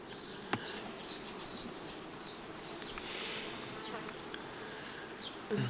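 Many bees hum in a dense, continuous buzz, close and moderately loud, with individual insects droning past the microphone.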